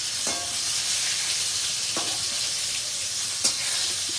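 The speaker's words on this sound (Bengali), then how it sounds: "অল্প তেলে বেগুন ভাজা" Eggplant slices frying in a little oil in a home kitchen, a loud, close, continuous sizzle with a few sharp spatula scrapes and clinks, no voices.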